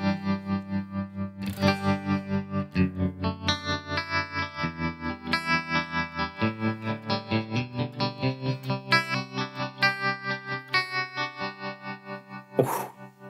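A 2290 P dynamic digital delay pedal with fast tremolo on a sustained, distorted tone, the volume pulsing in rapid regular waves while notes shift and echo, with no voices over it.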